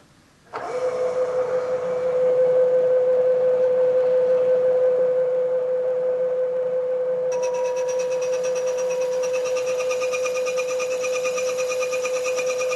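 A milling machine runs a light cut on a part clamped in a vise, holding a steady whining drone with a constant pitched tone. A brighter, higher ringing layer joins partway through and continues to the end.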